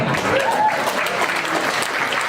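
A studio audience bursts into applause, a loud, close, dense clapping with faint crowd noise and a brief voice underneath, continuing steadily throughout.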